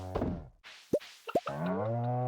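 Cows mooing in the farming video game Stardew Valley, two short, bright moo calls near the middle, framed by longer musical tones from the game and no talk.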